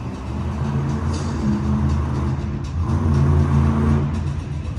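The Bigfoot Shark monster truck's engine revs and rumbles at a Hot Wheels Monster Trucks Live arena show in Birmingham, a loud continuous roar with rising and falling throttle swells.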